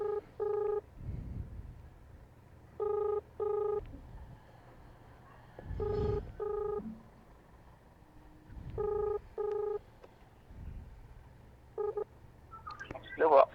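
A mobile phone dialing a customer, with paired electronic ringback beeps repeating at regular intervals and low background noise from a motorcycle delivery rider's surroundings, with brief talk in between.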